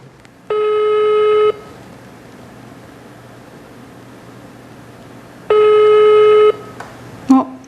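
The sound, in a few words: telephone call ringing, unanswered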